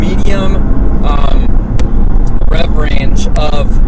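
A supercharged 2011 Cadillac CTS-V Coupe accelerates hard with a steady loud drone from inside the car, its rising pitch broken by gear shifts, while someone talks throughout.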